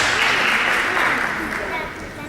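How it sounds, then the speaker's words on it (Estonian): Spectators at a sports competition in Tartu give steady, moderately loud applause that gradually eases, with voices mixed in beneath. "Aplaus, suur tänu toetajatele"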